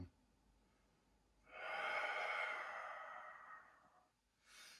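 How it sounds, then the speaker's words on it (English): Slow deep breath during yoga practice, a soft drawn-out airy exhale lasting a couple of seconds and fading, then a brief start of the next breath, quiet and close. "2 more nice deep breaths here."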